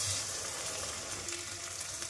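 Ground chili paste and ginger-garlic paste sizzle in hot oil, a steady close hiss and crackle running throughout without speech.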